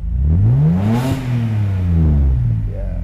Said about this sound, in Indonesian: Ini engine sound engine V6.